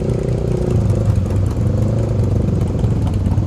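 A motorcycle ridden at night on the road up to Puncak, Bogor, its engine droning steadily and loudly from close by without a break, with a low, even rumble.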